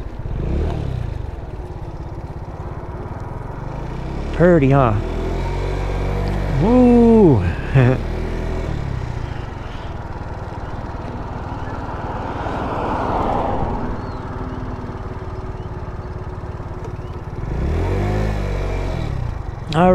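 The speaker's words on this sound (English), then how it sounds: "We're currently on the 50cc Boom PYT Revolution scooter" A 50cc Boom PYT Revolution scooter with a GY6 engine, ridden on a country road beside a dairy, buzzes and revs up in two short rising bursts over steady wind and road noise, with someone talking and whooping.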